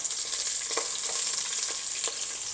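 Garlic sizzles in a hot pan, a steady bright frying hiss close by with a few soft crackles, and no voices over it.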